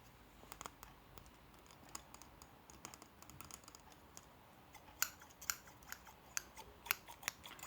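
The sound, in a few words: scissors cutting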